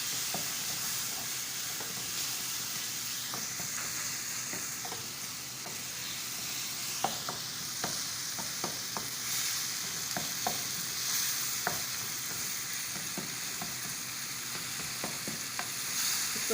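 Minced meat keema frying in a pan with green coriander and green chillies, a continuous soft sizzle and hiss broken by repeated scraping clicks of a spatula stirring, close and fairly quiet.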